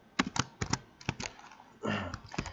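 Keys on a computer keyboard are pressed to enter the Ctrl+F11 shortcut: a handful of crisp, close clicks in quick irregular bursts, quiet and alone.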